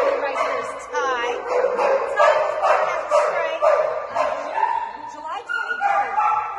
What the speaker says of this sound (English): This puppy right here is Tye.